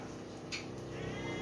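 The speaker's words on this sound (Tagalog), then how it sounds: "May pusa pala dito" A domestic cat in a home that also keeps bulldogs meows close by, one rising call partway through against a steady indoor background.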